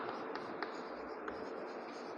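Chalk or marker writing on a classroom board during a Class 8 maths lesson on linear equations, a soft continuous scratchy stroke with a few small taps, faint and without talk.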